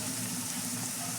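Green garlic and turmeric fry in hot oil for a Gujarati palak sabzi, giving a steady, close sizzle that carries on unbroken, with no one talking.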